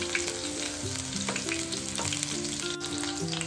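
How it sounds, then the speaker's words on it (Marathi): Stuffed puris frying in hot oil in a pan and being flipped over on a medium-low flame, with a steady close sizzle and crackle throughout and no talking. "मस्त एका बाजूने खरपूस असं हे फ्राय होतंय"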